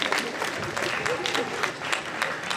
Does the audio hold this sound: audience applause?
yes